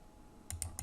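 Mouse clicks while working in CAD software, three quick sharp clicks close by after a near-silent pause.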